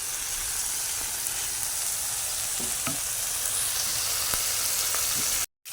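Steady oily sizzling of home-grown peppers frying in a pan, a dense continuous hiss with a few faint clicks and stirring sounds, cutting out briefly near the end.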